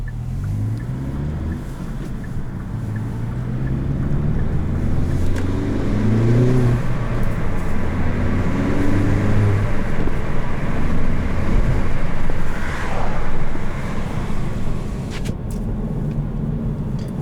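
Kia Forte GT with a turbocharged engine, manual, heard from inside with the window down: a steady loud engine and exhaust drone with rising and falling pitch as it accelerates and shifts, mixed with wind rush.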